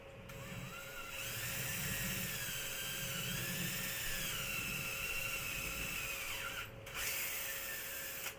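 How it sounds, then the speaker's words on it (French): An electric drill bores into a Meccano metal piece with a steady high whine, pitch wavering as the bit is rocked side to side, with a brief pause near the end before resuming. "Je perce."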